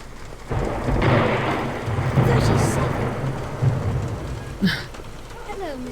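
Video game thunderstorm with steady heavy rain hissing throughout and a rumbling roll of thunder swelling through the middle, loud and close, with a brief sharper crack near the end.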